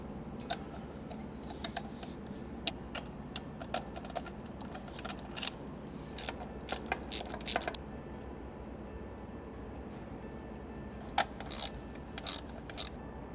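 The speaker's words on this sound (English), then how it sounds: "We're going to start by loosening all 4 bolts." A ratchet clicks in quick bursts while loosening the four carburetor bolts on a Ford Fox-body engine, with faint, close ticking over a low background hum.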